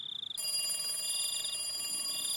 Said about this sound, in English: I finally realized the phone was ringing